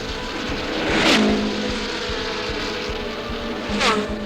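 Race cars roaring past at the start of the 1975 Indianapolis 500, a loud buzzing engine drone with two cars sweeping by in sharp rising-then-falling passes, near and steady beneath the crowd-level din.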